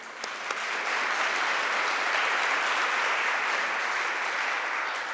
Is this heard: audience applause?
yes